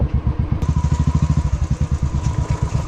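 An off-road vehicle's engine labours on a rough heavy off-road track near Madikeri, throbbing in a fast, even chug of low pulses that stays loud and close throughout.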